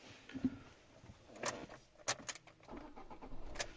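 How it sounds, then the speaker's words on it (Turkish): A Fiat Egea 1.3 Multijet diesel car starting up: a soft clunk and key jingle, then a short starter crank and the engine catching into a quiet idle, close and fairly faint. "Aracı çalıştırdık."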